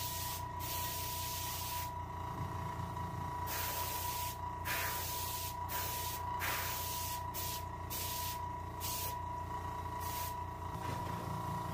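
Spray paint hisses in short repeated bursts onto a chum salmon taxidermy mount while detail and dark touch-ups are added to the face, each burst separated by brief pauses over a steady background hum.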